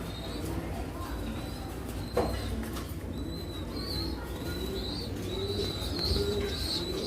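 Silky Lakka pigeons coo softly in a loft, with repeated low throaty calls over a steady background hum and a few faint chirps, no talking.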